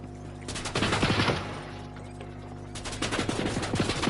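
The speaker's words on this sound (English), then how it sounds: "I know he's shooting me" Rapid video-game gunfire from Fortnite crackles in two dense bursts, sharp repeated shots close up with a quieter gap between, no talk over it.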